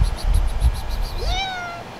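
An injured street cat gives a single clear, close meow that rises and then falls, preceded by a burst of rustling and handling noise.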